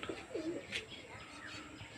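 Faint, low coos come from a pigeon calling outside the net of a loft housing mother birds and chicks, soft and somewhat distant over a quiet background.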